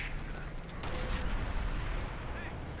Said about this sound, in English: mortar might do some work here